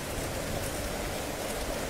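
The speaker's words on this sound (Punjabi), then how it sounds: "ਲੁਧਿਆਣਾ ਦੇ ਵਿੱਚ ਪੂਰੀ ਤੇਜ਼ੀ ਨਾਲ ਮੀਂਹ ਪੈ ਰਿਹਾ" Heavy rain pours over Ludhiana city as an even, dense hiss of falling water. The sound is fairly faint and unbroken, with no voices.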